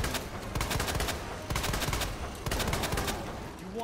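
Rapid bursts of gunfire from Leon's weapons during the final boss fight of Resident Evil 2 (2019), loud and dense, coming in three sustained volleys with brief gaps between them.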